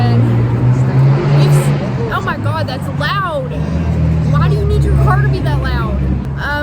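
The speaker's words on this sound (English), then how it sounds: "oh my God, that's loud. Why do you need your car to be that loud?" A loud car passes on a street, its engine rumble a strong low roar through most of the stretch, with talking voices and general street bustle over it.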